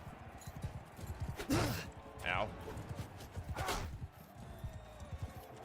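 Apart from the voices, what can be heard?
horse hooves clip-clopping in a video game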